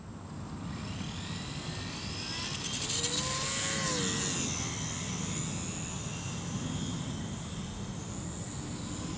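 A small electric E-Flite UMX Slow Ultra Stick RC airplane flies between buildings, its motor and propeller giving a steady whine that rises and falls in pitch as it passes, over a broad outdoor rush of wind, with no voices.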